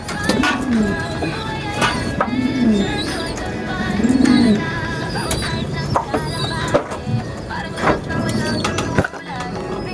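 A racing pigeon back from a lap of a long-distance race coos in short, soft bursts near the loft, with other bird chirps and people talking around it at close range.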